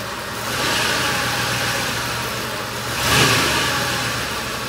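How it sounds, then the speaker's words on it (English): A 1993 Cadillac Coupe DeVille with a suspected transmission problem and worn motor mount revs in reverse with the brake held, its engine droning loud and close and swelling in a brief surge near the end. "Give it some gas with your foot on the brake."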